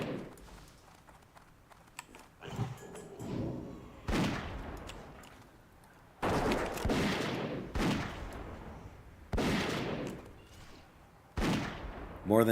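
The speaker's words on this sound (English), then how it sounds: "Let's try this Doom Mortar thing again here." Doom Mortar explosions in World of Warcraft TBC, a string of heavy booming blasts landing every couple of seconds, loud and close, with softer game effects between them.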